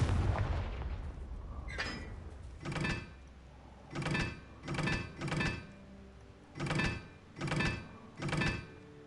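Repeated explosive spell blasts in a Harry Potter video game, six booming bursts with rolling tails arriving at a steady, roughly one-second rhythm after a rumbling opening.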